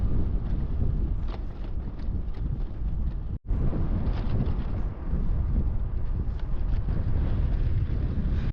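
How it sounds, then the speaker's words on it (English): Strong headwind buffets the microphone of a cyclist riding across Australia, a loud, continuous roaring rumble that stops for a split second midway and then resumes. "you get a nasty, nasty headwind"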